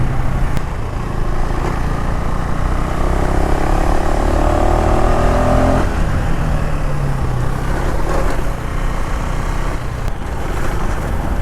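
A 2025 KTM Enduro R 390 motorcycle rides at speed, its engine note droning steadily and close under heavy wind rush, with pitch shifting as the rider changes throttle.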